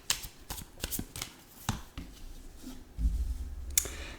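Oracle cards being shuffled by hand, a run of quick papery riffles and flicks close to the microphone, ending in a brief rougher rustle as the deck is squared up.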